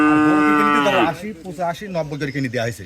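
Cattle at a farm selling dairy cows: one loud, drawn-out moo from a nearby cow, followed by several shorter lowing calls from the herd close by.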